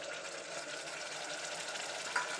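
Beans and tomato fry in a pan with a steady, fairly quiet sizzle and faint stirring, continuous throughout with one brief sharper scrape near the end.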